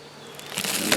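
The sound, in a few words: honey bees buzzing at hive during inspection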